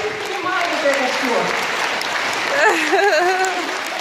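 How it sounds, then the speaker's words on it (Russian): An audience at an MLM seminar, the Autumn Wave 2016 event, applauds steadily throughout, dense and continuous clapping filling the hall, with a voice speaking loudly over it toward the end. "давайте поаплодируем"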